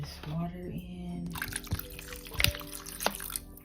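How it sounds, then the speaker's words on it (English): Water is poured into a container of sea moss for purple sea moss gel, giving splashy drips and trickles over a speaking voice. "I'm gonna pour the rest of this water in"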